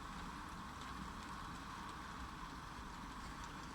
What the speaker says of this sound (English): Look at that heavy rain.